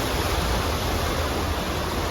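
A steady hiss of rainwater running past nearby, dense and unbroken for the whole moment, with no voices.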